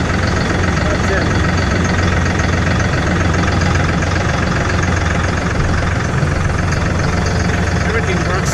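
A tractor engine idles in freezing cold weather, its loud, dense and continuous rumble holding steady throughout with no pauses.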